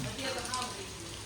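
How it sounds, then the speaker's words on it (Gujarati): Rain dripping steadily at a new home, a soft, continuous close patter with faint voices underneath. "વરસાદ પણ રેવાનું નામ લેતો નથી ટપક ટપક ખવાનો ચાલુ કરી દીધો છે"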